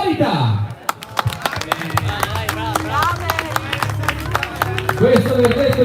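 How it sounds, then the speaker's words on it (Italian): Applause from the audience at an amateur boxing event greeting a draw verdict, sharp clapping bursts mixed with crowd noise and a voice speaking over it. "accogliere con un grandissimo applauso questo verdetto di parità"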